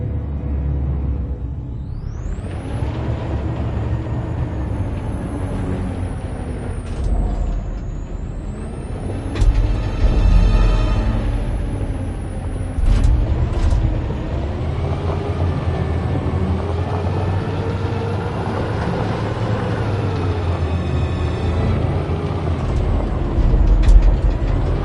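Truck engine rumbling steadily in Detroit: Become Human, with hissing air brake bursts and rising revs, loud and continuous for the whole stretch without speech.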